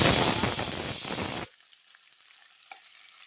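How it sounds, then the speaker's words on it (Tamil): Spices tempering in hot oil for vada curry: a loud, dense sizzle that cuts off abruptly after about a second and a half, leaving near quiet with a faint click or two. "பேசிட்டே வடகறியை தாளிச்சிடலாம்"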